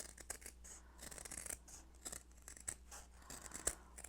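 Scissors snip at embroidery stabilizer in a rapid string of short, crisp cuts, close and quiet, with no talk over them.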